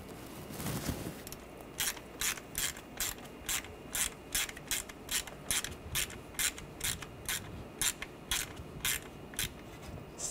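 A ratchet wrench clicks in quick, even bursts, tightening the camshaft position sensor bolt on a 2013-2019 Ford Escape engine, close and clear with no talking.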